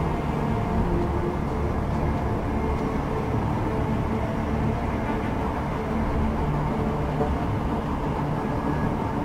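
Steady rumble of a train ride inside the Deus Ex: Mankind Divided video game, a continuous low rolling drone with faint rattle, even and unbroken throughout, with no talking.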